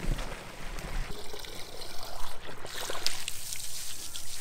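Water gushes from an 18 mm garden hose in a steady, close, splashing stream, pouring continuously and fairly loud with slight fluctuations.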